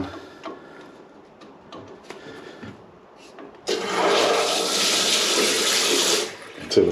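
Faint ticks and clicks, then water suddenly rushes loudly through household plumbing pipes in a steady hiss for several seconds before cutting off, as the water supply is turned back on after a cold hose replacement.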